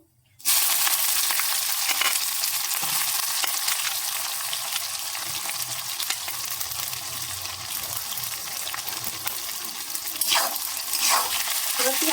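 Thinly sliced onions hit hot oil in a kadai with a sudden loud sizzle that keeps hissing and crackling steadily up close for the rest of the stretch.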